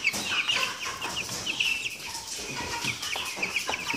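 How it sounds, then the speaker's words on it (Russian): Ross 308 broiler chicks, about fifteen days old, keep up a dense chorus of high peeping and clucking with occasional wing flutters, steady and close throughout. "И такие цыплятки уже начинают быть в своем пере."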